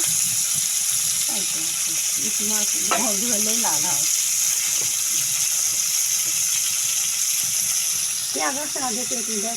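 Bottle gourd and shrimp fry in a pan, a constant loud hiss of sizzling oil running throughout while someone talks over it.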